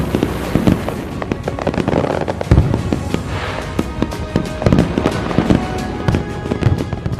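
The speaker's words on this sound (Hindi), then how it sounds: "जहां सरकारी ऑयल कंपनी की जानिब से शानदार आतिशबाजी का मुजाहरा किया गया।" A fireworks display at a cultural complex in Dammam, Saudi Arabia, held in daylight by the state oil company, produces dense continuous crackling and popping with frequent loud booming bursts and no pause throughout.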